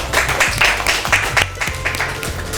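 Children clap for a classmate, a brief burst of close, uneven hand claps with a few sharper individual smacks standing out.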